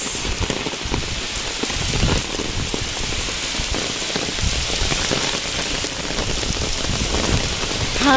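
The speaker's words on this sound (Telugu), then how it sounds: "పెద్ద వాన పడుతుంది" Heavy rain pours steadily at Kondapally hill fort, a dense, loud, continuous hiss of drops pattering on surfaces close by, with no voices.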